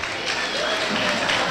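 Audience at a Pakistani stage presentation clapping along in a steady, dense wash of applause that fills the short moment without pause, with no voice over it.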